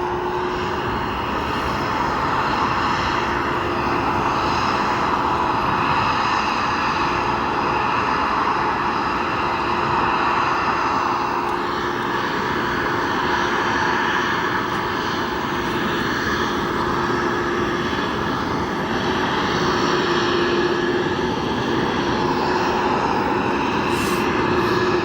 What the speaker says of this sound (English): On your screens right now are Iberia Airbus A330 from Madrid.